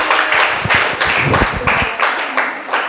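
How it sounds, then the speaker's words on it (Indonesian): Brief, lively clapping from a small group, a burst of rapid hand claps lasting a few seconds. "tepuk tangan dulu buat Fakih."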